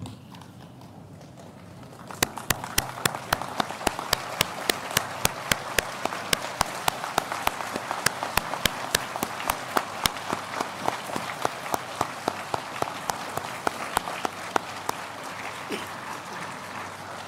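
An audience at an international academic conference gives a steady round of applause, with sharp individual claps standing out over a dense patter of hands. The clapping sustains evenly without voices.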